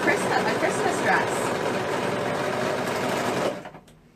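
A sewing machine stitches criss-cross jumper pieces together, running loud and steady close by for about three and a half seconds before stopping abruptly.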